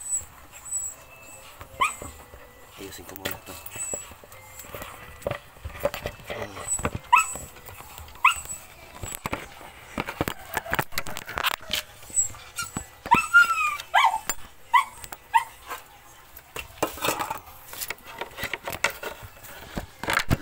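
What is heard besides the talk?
pet dogs whimpering and barking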